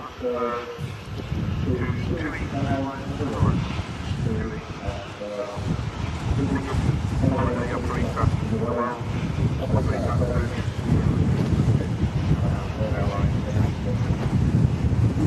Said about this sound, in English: Like the wind's just been turned up by a fair few knots.